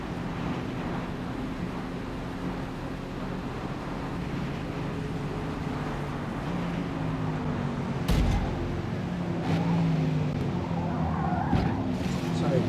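In the Forza Motorsport racing game, a car's engine drones steadily while its tires slide and squeal under braking, with a sharp impact burst partway through and the engine revving on afterward.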